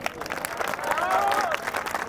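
Scattered audience clapping at a school annual function and talent award ceremony, fairly steady across two seconds, with a voice rising over it partway through.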